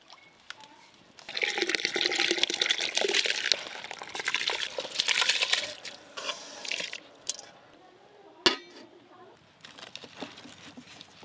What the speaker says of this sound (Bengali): জল গরম হয়ে গেছে, এবার চালটা দিয়ে দেবো।